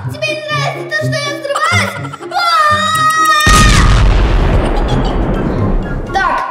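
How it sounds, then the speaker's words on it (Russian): A loud cartoon explosion bursts with a deep boom and a long noisy rumble that fades slowly, right after animated high-pitched voices speak and cry out. "Да хватит уже взрываться!"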